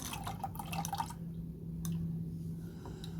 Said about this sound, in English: Rather than gush oil everywhere, I'll just leave that cracked, doing its thing